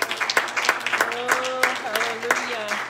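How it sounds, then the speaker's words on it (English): Church congregation clapping hands in worship, steady rhythmic claps spread through the room beneath sung voices and an organ-like sustained tone. "Will you clap your hands unto the Lord?"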